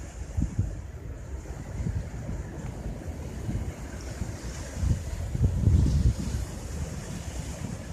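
Water rushing and surging at the Falls of the Ohio River, a broad low continuous roar with gusts of wind buffeting the microphone, swelling louder toward the end, no talking.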